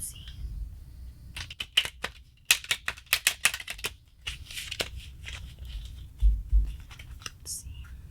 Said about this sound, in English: I love shuffling so much.